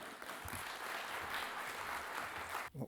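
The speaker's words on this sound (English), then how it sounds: "Warm round of applause, please." Audience applause at a lightning talks session: dense, steady clapping from a room full of people, fairly loud and continuous, breaking off abruptly near the end.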